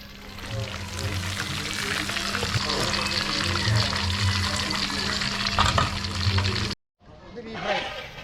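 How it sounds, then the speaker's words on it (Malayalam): Chicken fries in hot oil at a Kerala food stall, a loud continuous sizzle with stirring clatter and a low steady hum, cut off briefly by a short silence before the frying noise resumes. "ചിക്കൻ ഫ്രൈ ചെയ്യുന്നുണ്ട്"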